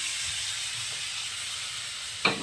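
Fried prawns tossed with taro and spices in a hot pan make a steady, close sizzle and hiss, topped by one brief scrape of stirring near the end, with no one speaking.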